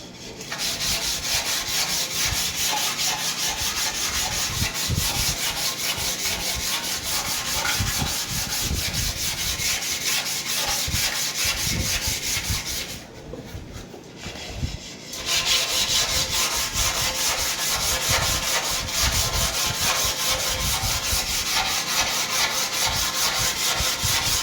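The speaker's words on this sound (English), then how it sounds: "Then start scrubbing." A stained toilet bowl being scrubbed with a cleaning solution, heard as continuous close, rhythmic brushing and rubbing strokes with a short pause partway through before scrubbing resumes, no voices.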